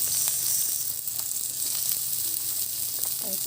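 Garlic and then onion sautéing in a hot pan for a fish sarciado, a steady close sizzle and hiss with light stirring scrapes and a faint brief voice near the end.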